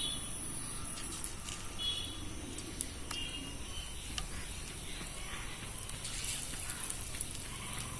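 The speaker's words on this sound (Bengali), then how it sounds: "এবার আমি একে একে পাট পাতার বড়াটা ভেজে নেব" Jute leaf fritters sizzle in hot oil, a soft continuous crackle and hiss with faint pops, heard close but quietly and alone.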